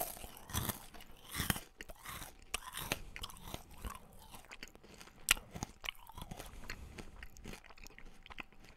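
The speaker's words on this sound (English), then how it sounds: "starts out so crunchy, and by the end it totally has melted in your mouth." Crunchy Canadian snack being chewed up close, with repeated sharp crisp bites and crunches, denser at first and then continuing in softer bursts, with no voice over them.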